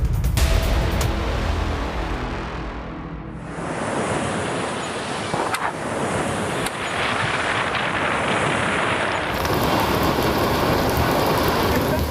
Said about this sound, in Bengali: রেমালের জেরে টানা 2 দিন ঝড় বৃষ্টি হয়েছে বাংলায়।